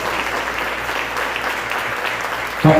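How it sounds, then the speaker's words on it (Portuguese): A church congregation applauds during an evening service, with sustained, even clapping from many hands filling the room, then a sharper, louder burst right at the end. "Vamos aplaudir a Deus"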